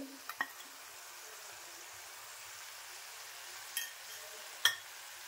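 Two spoonfuls of Malvani masala hit hot oil already holding ginger-garlic paste for a tempering. A soft, steady sizzle hisses throughout, broken by a few sharp spoon clinks against the pan.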